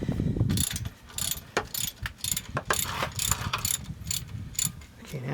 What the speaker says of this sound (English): I'm going to go ahead and just pop the ratchet off of there.